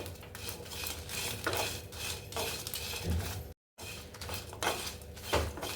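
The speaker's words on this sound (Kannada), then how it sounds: "ಒಂದು ಗಡ್ಡೆ ಬೆಳ್ಳುಳ್ಳಿ ಹಾಕ್ತಾ ಇದ್ದೀನಿ ಶುಂಠಿ ಒಂದು ಎರಡು ಪೀಸ್ ಹಾಕ್ತಾ ಇದ್ದೀನಿ ಅದನ್ನು ಚೆನ್ನಾಗಿ ಉರ್ಕೋಬೇಕು" Garlic and ginger being fried and stirred in a pan for tomato bath: a utensil scrapes and clatters against the metal pan again and again, over a faint sizzle.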